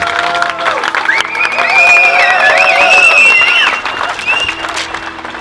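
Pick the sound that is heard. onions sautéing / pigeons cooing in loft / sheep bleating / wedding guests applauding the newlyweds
wedding guests applauding the newlyweds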